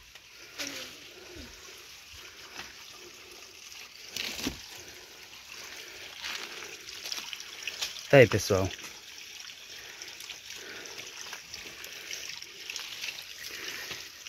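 A small spring in a Brazilian mountain range trickles and dribbles gently and steadily, close and fairly quiet, while people speak over it.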